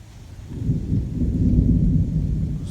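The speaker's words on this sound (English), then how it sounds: "Oh, you hear that thunder, guys?" Thunder from a summer thunderstorm rolls as a deep, rumbling swell that builds and lingers for several seconds, fairly loud and distant-sounding, with no talking.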